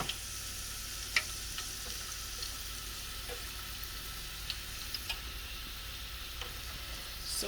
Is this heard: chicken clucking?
no